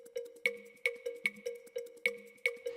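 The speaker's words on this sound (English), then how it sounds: "so with the clav it sounds like this" Clavinet part in a music mix, playing short funky plucked stabs in a steady repeating rhythm with crisp percussive attacks, quiet and clean.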